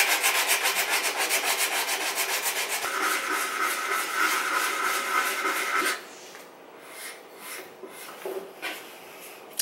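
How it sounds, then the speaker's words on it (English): Sandpaper rubs quickly back and forth over wood filler on a wooden tray, a close rhythmic rasping that grows steadier and then drops to slower, quieter strokes for the last few seconds. "Just take some sandpaper and sand away the excess wood filler."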